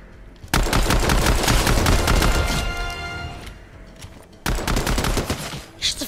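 Pistol fire in a first-person shooter game, loud close shots in a rapid spammed burst over the first few seconds, a pause, then another quick volley near the end.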